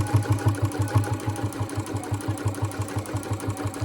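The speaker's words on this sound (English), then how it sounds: "use your same length stitch as you used for your top stitch because it's just going to be a basting stitch" A sewing machine running a basting stitch at an even pace, its rapid, regular mechanical chatter loud and close, steady throughout without pauses or voices.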